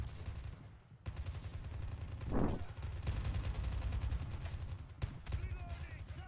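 Gunfire from the Call of Duty Mobile team deathmatch game rattles in quick bursts under a steady game backdrop, with a louder burst in the middle.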